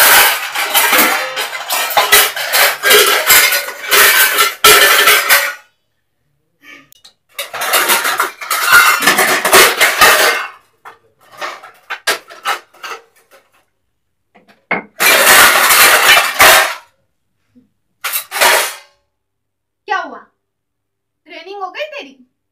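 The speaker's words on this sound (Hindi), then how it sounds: "बर्तनों की आवाज कम कर सकती हो आप?" Utensils and dishes clattering in a home kitchen, loud bursts of metallic clanking and scraping in irregular spurts separated by pauses, with people talking nearby.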